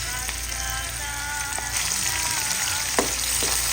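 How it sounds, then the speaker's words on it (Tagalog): Garlic, onion and ginger sautéing in oil left over from frying fish, a close, steady sizzle with occasional stirring scrapes and clicks over a few seconds, no talking. "ginigisa ko na po ang ating bawang, ang ating sibuyas at ang ating luya po dito sa pinagprituhan ko po, po ng isda"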